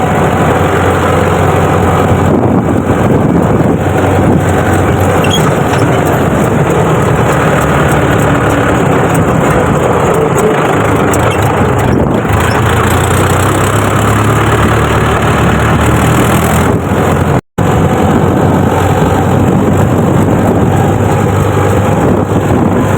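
A tractor engine drones steadily while the tractor drives along, loud and close for the whole stretch, with wind buffeting the microphone and one brief cut-out near the end.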